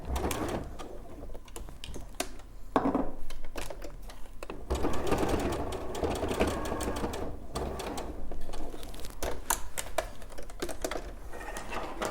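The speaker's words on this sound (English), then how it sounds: "I'm just going to stitch a top stitch over the top of here" A domestic sewing machine runs a topstitch along a fabric edge, its rapid mechanical whirr going steadily for several seconds with brief pauses and a few louder clacks, close and fairly loud.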